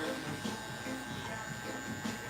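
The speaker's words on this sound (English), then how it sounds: "Little Clipper is still kicking." A small electric hair clipper buzzes steadily and close by throughout, a continuous fairly quiet drone during a haircut, with no clear talk over it.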